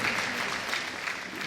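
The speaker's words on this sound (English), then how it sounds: "Nice round of applause there." Brief burst of audience applause in the arena at the Crufts 2019 dog show gundog group judging, steady and fairly loud clapping from a large crowd with no voices on top.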